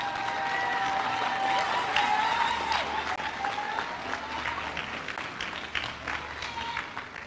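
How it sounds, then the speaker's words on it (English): Graduates and families at a 2023 college commencement ceremony give a sustained round of applause, a steady wash of many hands clapping in a large hall, fairly distant and moderately loud. "give them a round of applause for helping you on this journey"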